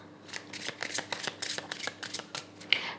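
A deck of tarot cards being shuffled up close, a steady run of rapid papery riffles and flicks lasting a few seconds, with no talking.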